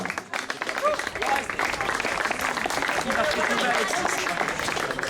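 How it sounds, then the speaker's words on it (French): At a cycling race podium for a stage of the Tour du Tarn U17 cadets and women's event, a crowd claps steadily and continuously under a French announcer's voice, with some cheering mixed in. "Les applaudissements pour Esteban Vassal"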